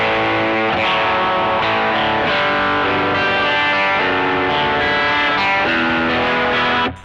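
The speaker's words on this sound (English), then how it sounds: "it's one of the few pedals that it has a high gain overdrive option." An electric guitar runs through a Strymon Sunset pedal set to its high-gain overdrive, playing loud chords and sustained notes in a steady rhythm with thick, saturated tone and no talking.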